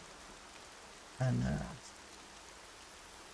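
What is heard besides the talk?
rain falling in the video game Horizon Zero Dawn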